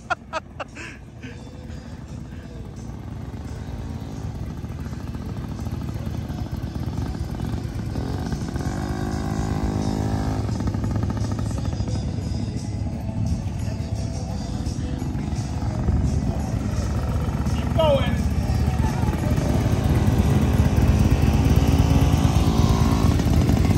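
Harley-Davidson motorcycle ridden by a first-time rider, a steady low engine drone that builds gradually and stays close and loud throughout, with voices talking over it.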